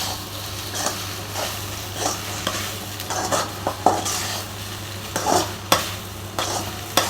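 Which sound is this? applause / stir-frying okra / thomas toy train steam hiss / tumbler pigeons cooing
stir-frying okra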